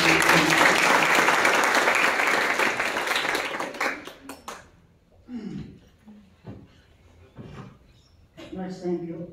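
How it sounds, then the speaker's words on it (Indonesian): Dense congregational clapping at a Sunday church service in a theological school, loud for several seconds then thinning out and stopping, followed by a speaking voice. "Kalau perlu tepuk tangan dulu."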